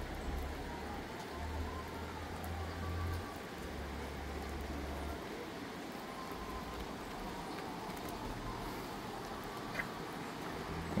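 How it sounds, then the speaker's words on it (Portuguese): Steady rain falling around a hilltop shrine area, a soft continuous hiss of drops spread evenly throughout, faint and distant, with occasional low rumbles of passing traffic underneath and no talking. "Continua chovendo."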